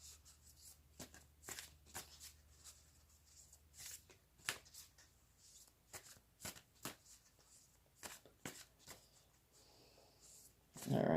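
Moonology oracle cards are shuffled up close in a quiet room, a series of crisp riffling bursts and soft slaps in an uneven rhythm, ending with a brief louder rustle.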